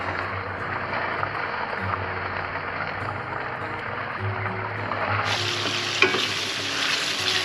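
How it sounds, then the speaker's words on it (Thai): Massaman curry paste is stir-fried with chicken in a pan over low heat, a steady close sizzle with scraping stirs that continues throughout, and a constant background hum. "ไม่ต้องผัดนาน"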